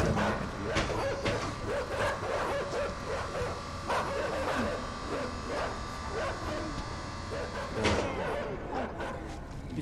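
Dogs bark repeatedly in the game Inside, with sharp yips scattered through the scene, moderately loud, while a person talks over them.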